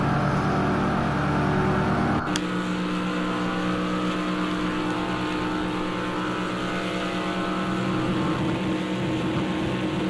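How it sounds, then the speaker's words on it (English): A race car engine at Daytona revs hard near its maximum after heavy contact, a loud sustained droning roar that changes pitch abruptly just past two seconds, then holds steady to the end. "Listen to the revs."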